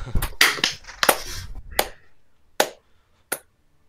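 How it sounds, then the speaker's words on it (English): A few sharp, separate hand claps ring out close by, the first ones crowded together and then two more spaced apart, leaving brief silence between them. "You have to do a clap when you start recording."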